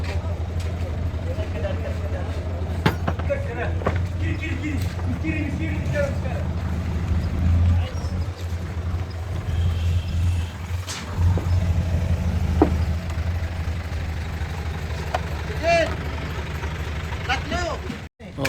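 Isuzu truck engine idling during an unloading at a lot, a steady low rumble running throughout, close and constant, while someone talks over it.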